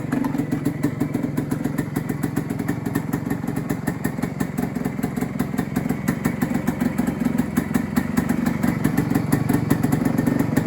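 A motorcycle with twin exhaust pipes, a used bike just arrived for sale, runs steadily at close range, a loud continuous idle with a fast, even throb and no talking over it.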